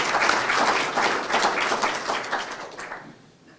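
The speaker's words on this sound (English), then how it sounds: "So I think a round of applause also in his absence" Audience applause at a meteorological award ceremony, steady dense clapping from a crowd that holds for about three seconds, then fades out toward the end.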